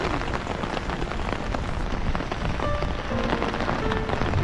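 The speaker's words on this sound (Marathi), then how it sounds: "पावसाची सुरुवात मोठ्याने चालू झालेली असून आमच्याकडे बघू शकता पूर्ण शेतामध्ये पाणी झालेलं आहे" Heavy rain pours onto waterlogged village farm fields, a dense, loud and steady hiss of drops throughout with no voices.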